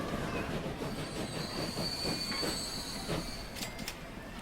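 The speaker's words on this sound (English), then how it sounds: "Oh hey, this train is about to stop." Train in the Transport Fever video game braking to a stop at a station, with steady rolling rumble, wheel squeal tones and a few sharp metallic clicks near the end, no voices.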